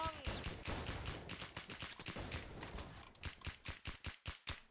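Rapid bursts of video game gunfire from a newly acquired SS+ gun, loud sustained automatic shots that break into a steady rhythm of separate cracks near the end.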